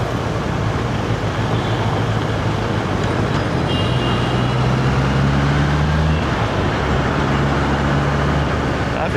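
Steady road traffic noise from a ride on a 2025 Honda CBR 650R motorcycle, a continuous broadband rumble with low engine drone shifting in pitch midway, vehicles passing close by throughout.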